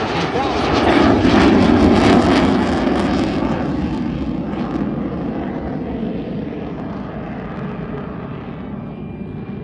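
A Lockheed U-2 spy plane climbing at the California Capital Airshow, its jet engine giving a loud, steady broadband roar that gradually fades over ten seconds, with an announcer speaking over it.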